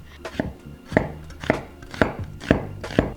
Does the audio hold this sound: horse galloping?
no